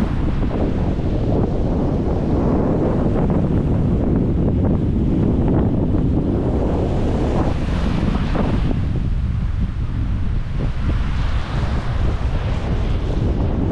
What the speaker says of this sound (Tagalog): Nasa lakas ang hangin.